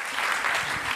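Audience applause at a round-table awards event on food cooperation, a dense steady wash of many hands clapping, loud and even throughout this brief moment with no talk.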